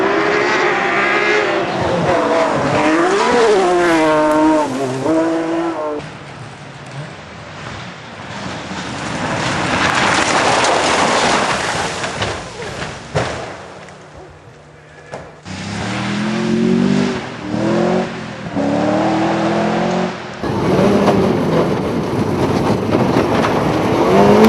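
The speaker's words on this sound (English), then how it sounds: "to watch the thrills and spills of the Wydene Rally" Rally cars at the Wydene Rally roar past loudly with rising and falling engine revs. There are gaps, and later passes sound close and rough, with outdoor crowd noise and a short spell of quieter ambience.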